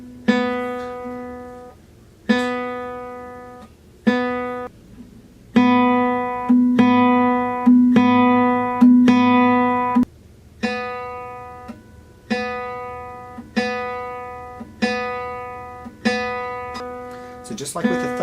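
Single guitar string plucked with an index-finger free stroke. A slow series of clean, close notes, each letting ring into a decay before the next, spaced about two seconds apart, with no talking.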